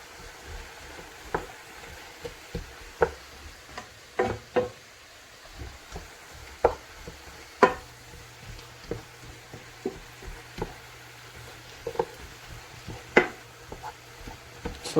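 Seafood ceviche, guacho de mariscos, is stirred in a bowl with scattered clinks and knocks of the utensil against the sides, irregular and close, over a quiet background.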